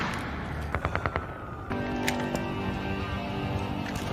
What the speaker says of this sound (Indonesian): tembakan Matt barusan hanya mengenai baju anti peluru milik Fly